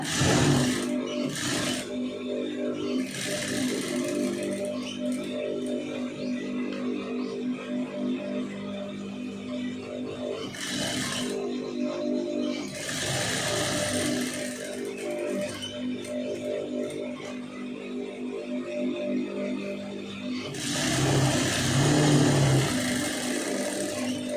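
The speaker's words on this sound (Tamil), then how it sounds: "அப்படியே கரெக்டாக தையல் வந்து நீட்டாக ஓட்டிடுங்க" A sewing machine stitching a pom pom sleeve runs in a few loud bursts of motor whir with short pauses between runs.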